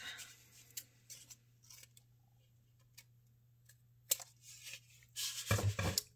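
Scissors snip through paper for a slimline Valentine's Day card, a few scattered close clicks and cuts with quiet gaps, ending in a louder burst of rustling cuts.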